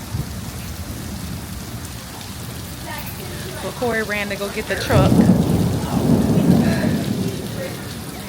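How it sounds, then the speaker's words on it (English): Heavy rain pours down in a thunderstorm at a bayfront spot in Marin, a loud steady hiss that swells in the second half, while a person talks over it. "It is raining."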